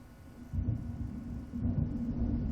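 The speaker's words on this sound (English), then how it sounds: "It seems there's a storm coming." Deep thunder rolls from an approaching storm in the video game Alan Wake, two low rumbling swells about a second apart, heavy and close with nothing else over them.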